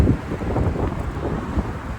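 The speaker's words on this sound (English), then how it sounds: "it's quite windy today" Strong wind buffets the microphone in a steady low roar, gusting unevenly throughout with no other sounds standing out.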